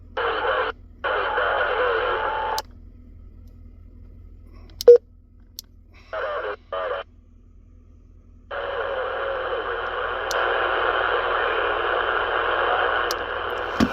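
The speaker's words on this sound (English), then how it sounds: "you can start adjusting your squelch from there." Static hiss from a Cobra mini CB radio as its squelch knob is turned, cutting in and out in bursts between silent gaps, with a few faint clicks and one sharp click midway.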